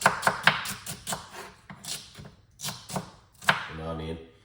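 Celery being cut up on a board for juice, a series of sharp, near knife chops in an irregular rhythm, with someone talking between and over the strokes.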